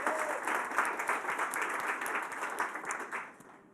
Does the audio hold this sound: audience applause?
yes